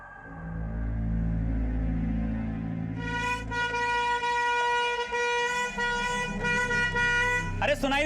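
A vehicle horn blares in sustained, repeated honks amid street noise, loud and close, with someone shouting over it.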